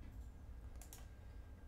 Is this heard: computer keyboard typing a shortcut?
yes